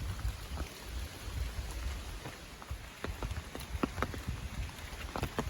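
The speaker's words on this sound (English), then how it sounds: "So as you can see, it is raining now" Steady rain patters around on the Appalachian Trail, with scattered sharper drops landing close by over a soft continuous hiss.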